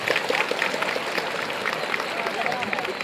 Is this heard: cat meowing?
no